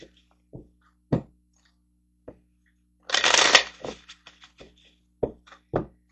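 Tarot cards shuffled and handled in separate bursts: several sharp single taps and flicks, then a dense riffling rush around the middle, followed by more scattered snaps and taps, close and fairly quiet with no talking.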